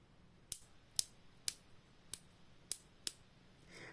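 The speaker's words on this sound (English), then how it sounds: "it does have kind of a nice click to it" A hinged sensory fidget toy gives six sharp, crisp clicks spaced roughly half a second apart as it is turned, close and fairly quiet over a hushed room with no talking.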